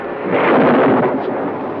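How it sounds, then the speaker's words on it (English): Loud, close thunder from strange lightning in a 1975 film scene: a dense, broad rumble that swells and rolls for nearly two seconds without a break, with no voices over it. "Then that strange lightning started again."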